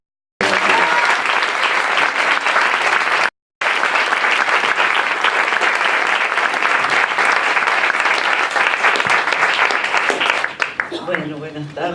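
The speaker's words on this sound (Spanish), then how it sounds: "les pido por favor un aplauso a las autoras" A seated audience at a book launch breaks into loud, sustained applause, dense clapping filling the room for about ten seconds with a brief break early on, tapering toward the end.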